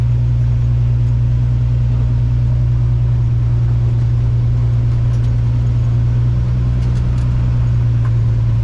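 A custom 1938 International truck's engine runs with a steady, loud, deep rumble that holds unchanged throughout, with no talking.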